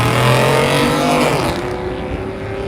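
Loud, close exhaust roar from a cammed Chevrolet Silverado truck, the engine revving steadily and then easing down, with no talking.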